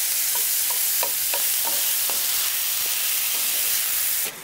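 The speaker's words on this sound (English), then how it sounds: "we'll cook this until the chorizo starts to brown and the onions are softening" Chorizo and onions fry in rendered fat with a steady loud sizzle, while a utensil scrapes and taps the pan in a regular rhythm of about three strokes a second.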